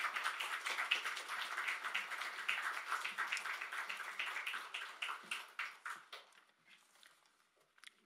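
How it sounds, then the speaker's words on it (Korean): A church congregation at a Holy Week revival service claps in a dense burst of many hands, then thins to a few scattered claps before fading out. "우리 정말 큰 박수로 한번 좀 환영했으면 좋겠습니다. 우리 큰 박수 내시겠습니다."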